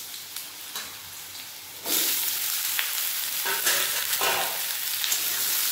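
Bottle gourd hitting a hot pan of oil with dried red chilli, bay leaf and green chilli for a Bengali lentil dish, a sudden loud sizzle erupting partway through and crackling steadily, with faint scraping clicks.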